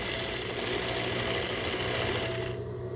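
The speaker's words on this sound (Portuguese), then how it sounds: "E aí, a gente vem fazendo a costura." Sewing machine stitching together two pieces of cushion fabric, a steady, fast mechanical chatter running continuously at close range and cutting out near the end, with no talking.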